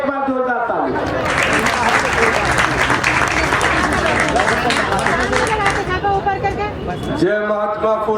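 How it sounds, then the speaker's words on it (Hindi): Loud, dense applause from a large crowd at a political speech, sustained clapping filling several seconds with voices briefly heard before and after. "एक बार जोरदार ताली"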